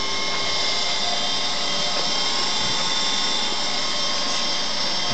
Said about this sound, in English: now it's really starting to race on, and you can see the mixing action close to there with the homogenizing head at the bottom